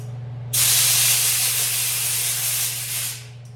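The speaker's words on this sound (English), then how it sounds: "clean the outside of this guy as well with some brake clean. Blow it off with some air." A loud, close hiss of brake cleaner and compressed air blasts over a turbo manifold part for about three seconds, then cuts off, with a low steady hum underneath.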